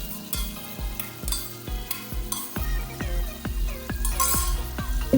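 Yogurt and masala sizzle in a pan for achar gosht, with a loud, constant frying hiss and a regular series of scraping stirs close by, and no one talking.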